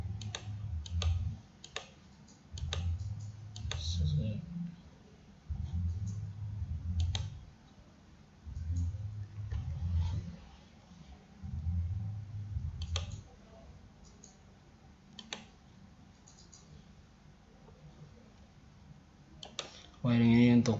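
Mouse clicks in the DCS Centum VP control software inside VirtualBox while building function block wiring for a vessel level control system, a scattering of sharp close clicks under steady spoken instruction.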